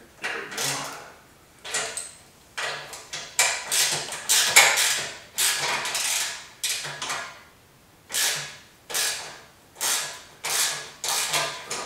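A half-inch hand tool works a clamp on the exhaust pipe of a BSA Rocket 3 motorcycle, giving a series of short ratcheting bursts and metallic creaks in an irregular rhythm with brief pauses between strokes.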